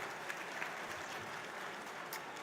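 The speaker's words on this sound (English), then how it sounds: "keep the applause rolling for the culinary and service team here at the Edmonton Expo Center" Audience at an awards banquet in the Edmonton Expo Center applauds the culinary and service team, steady dense clapping from a large crowd heard at moderate distance, even and sustained throughout.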